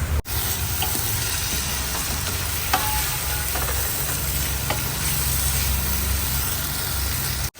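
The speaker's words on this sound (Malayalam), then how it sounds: "ഇച്ചിരി കൂടി കൂട്ടി വെച്ചിട്ട് ഇടയ്ക്കിടയ്ക്ക് ഇളക്കിക്കോട്ടോ, ഇടയ്ക്കിടയ്ക്ക് ഇളക്കിക്കോളൂ." Masala sizzles and fries steadily in a pan while being stirred, a constant close hiss with occasional scraping clicks of the spoon and no talking.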